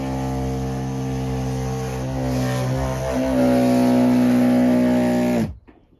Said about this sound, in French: Elle est bruyante ta machine.